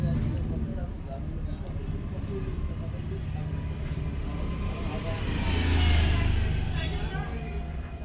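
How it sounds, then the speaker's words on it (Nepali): Steady road traffic rumbles outside a roadside repair workshop, with a vehicle passing and swelling louder around the middle, while someone talks over the noise. "अब बाटोमै छ मेरो वर्कसप है, अलि हल्ला भयो होला"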